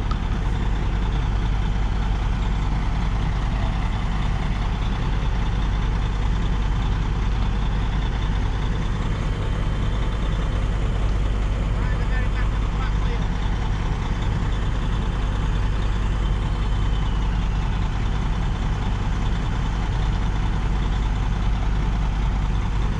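A diesel engine powering a fairground ride during a fair build-up in a park drones steadily and loudly for the whole stretch, a continuous low rumble with no talk over it.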